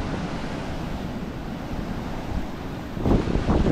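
Ocean waves surging and breaking on a Maharashtra beach in rainy, misty weather, a steady roar of surf with wind buffeting the microphone, swelling into a louder crash near the end.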